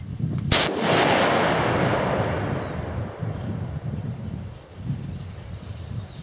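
A single loud rifle shot fired through a T4 Terminator muzzle brake, a sharp crack followed by a long rumbling echo that fades slowly over several seconds outdoors.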